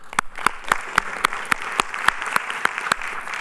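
Sparse applause at an internet policy meeting opening, dominated by one nearby clapper's sharp, evenly spaced claps repeating about three or four times a second over a softer, thinner patter from the rest of the room.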